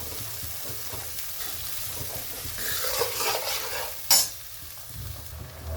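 Spice masala for a spiced taro-leaf roll curry being stir-fried in a pan, a steady soft sizzle with scraping stir strokes building midway and one sharp clink of the spoon near the end, with no talking.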